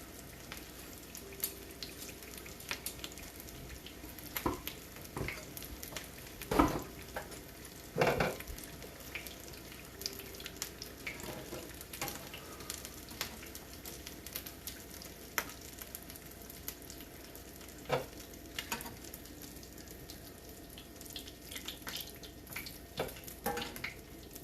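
Filipino lumpia fry in a pan over lowered heat, giving a soft, continuous sizzle with scattered crackles and pops and a few louder clatters, heard alone without talk.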